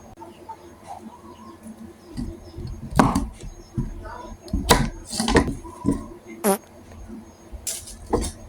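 A knife chops sponge gourd (luffa) on a cutting board in a home kitchen, giving a string of irregular, sharp, close knocks over a low background murmur.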